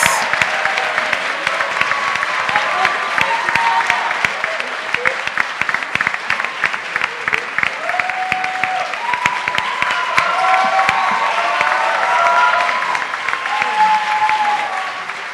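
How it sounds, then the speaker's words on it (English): An audience applauds the runners-up at the Ansary Entrepreneurship Competition, dense steady clapping with a few tonal voice bits over the clapping, filling the whole stretch at a close, full level. "And also a big round of applause for the runners-up,"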